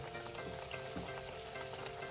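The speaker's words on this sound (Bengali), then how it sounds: "আমার একটা একটা করে খাজাগুলোকে ভাজতে হবে" Bihari khasta khaja pastries fry one by one in hot oil, giving a steady, dense sizzle and crackle that stays even throughout, close and unbroken, with no voices.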